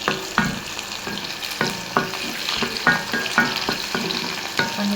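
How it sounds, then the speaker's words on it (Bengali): Chopped onion and green chilies frying in a pan with bay leaves, a steady close sizzle broken by regular scraping and knocking from a stirring utensil. "এখন একটু হালকা ভেজে নেব।"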